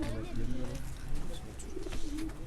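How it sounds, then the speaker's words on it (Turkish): Pigeons kept in a cage coo softly and repeatedly at close range, over a low rumbling background with a voice talking nearby. "Bir de burada bak şu kafeste de kuşlar var."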